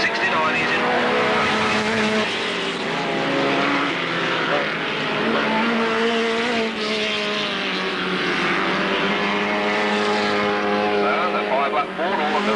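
Race cars lapping an oval track at an Alwalton race meeting, engines droning loudly and steadily throughout, rising and falling as cars pass, with a commentator talking over the top.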